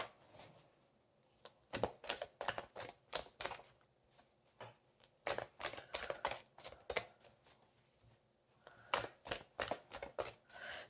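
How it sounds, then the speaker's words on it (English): Quiet, irregular bursts of tarot cards being shuffled and riffled, coming in clusters with short pauses between them. "I like to shuffle the cards until they come out"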